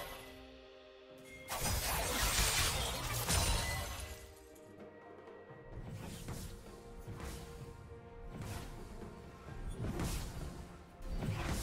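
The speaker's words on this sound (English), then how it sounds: "Blue team's turret has been destroyed" A turret is destroyed in League of Legends, mid-lane Zed versus Akali: a loud, crashing shatter of breaking debris swells and falls in several bursts, with whooshing effects and steady game sound underneath.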